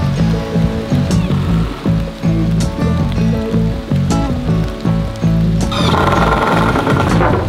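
Rain falling at a log cabin building site, a loud continuous patter of drops with repeated knocks and clatters of work sounds mixed in, rising into a brighter splash near the end.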